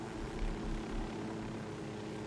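Steady engine drone from a helicopter in the video game Ghost Recon Wildlands, parked at an enemy base, a continuous dense rumbling hum at even loudness with no voices over it.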